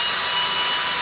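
A small power drill whirs at fast speed through a hole while a Ford Explorer grill guard is being installed, a steady high-pitched whine heard alone and up close.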